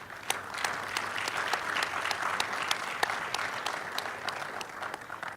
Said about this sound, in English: give a round of applause to our very noble panelists